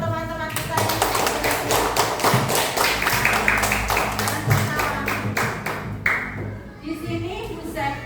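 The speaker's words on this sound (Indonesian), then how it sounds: "Tepuk tangan untuk teman-teman kita." Classmates in a classroom clap for their peers, a series of sharp, close individual claps in a loose rhythm with thumps and background voices, thinning out toward the end.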